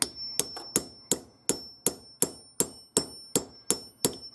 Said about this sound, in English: I'm going to grab this hammer, and we're going to give this a little love tap